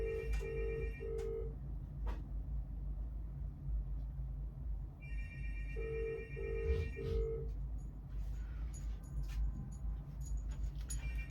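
A telephone rings indoors in two separate sets of repeated electronic trills, fairly faint over a steady low rumble, with no talking.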